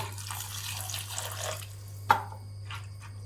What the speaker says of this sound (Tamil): இப்போ நம்ம பருப்பு வேகிற அளவுக்கு தண்ணி சேர்த்துக்கோம்